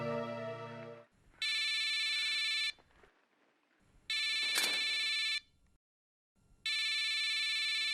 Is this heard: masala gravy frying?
no